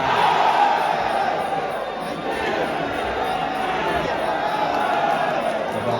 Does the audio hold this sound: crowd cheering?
yes